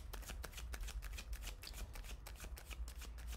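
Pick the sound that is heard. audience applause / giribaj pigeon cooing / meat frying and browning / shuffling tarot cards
shuffling tarot cards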